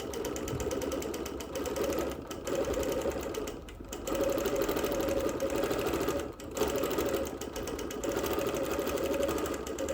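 A sewing machine quilts on wool with a steady, fast mechanical whir, stitching continuously for the whole stretch with a few brief pauses and close, even loudness.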